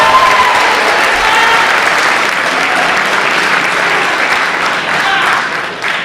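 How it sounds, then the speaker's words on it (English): A crowd at a sports club's meet-the-coaches night gives a sustained round of applause, loud and even throughout, fading slightly toward the end. "So give yourselves a big round of applause"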